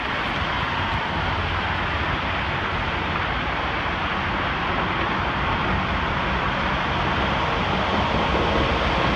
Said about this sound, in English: CSX Auto Train crossing the bridge.